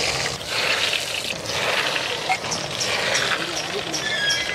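Egg lollipop balls, spicy fried egg snacks, drop into a pan of frying oil over a medium flame in a village kitchen, setting off a dense, steady crackling sizzle that runs the whole time, with voices faintly underneath.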